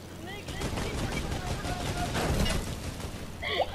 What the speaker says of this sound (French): Les gars, tirez sur Azedine.